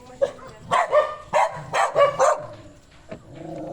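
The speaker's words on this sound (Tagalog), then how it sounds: "Pinalibutan tuloy siya ng aso kasi nilalasan." Several sharp, close dog barks come in quick bursts, one dog yapping repeatedly before a short pause and a fainter bark.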